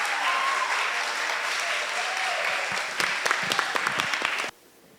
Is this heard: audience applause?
yes